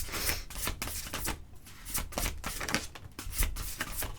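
A deck of cards is shuffled by hand: steady rustling and riffling bursts repeat for several seconds, close and fairly quiet, with no voices.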